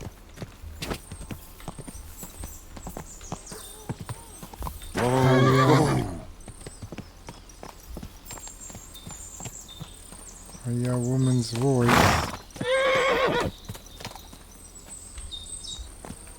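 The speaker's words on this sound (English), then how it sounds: "Let's get off our horse." A horse in the video game Kingdom Come Deliverance 2 clops along in steady, light hoofbeats, with a couple of loud neighs and a voice speaking between them.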